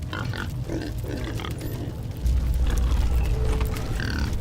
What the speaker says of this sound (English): Well, there's the pigs.